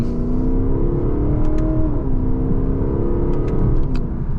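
A Lexus LC500 V8 pulls away on an open road with mild acceleration, a steady loud engine drone climbing gently in pitch, with faint high clicks from the paddle shifters.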